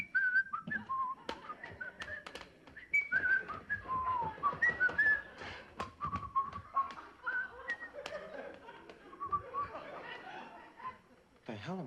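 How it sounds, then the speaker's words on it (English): A man whistles a TV theme tune, a wavering melodic line running throughout under steady background talk and chatter, with brief laughter mixed in. "I'm no whiz at whistling either."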